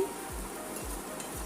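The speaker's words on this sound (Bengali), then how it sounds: "গোবিন্দভোগ চালটা ভাজা করে নিচ্ছি" Gobindobhog aromatic rice, salted and coloured with turmeric, dry-frying in a hot pan, giving a steady soft sizzle with a few low scraping stirs, close and on its own without talk.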